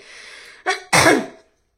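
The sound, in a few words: cough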